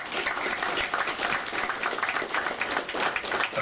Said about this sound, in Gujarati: આ બધાને તાળીઓથી આપણે વધાવીએ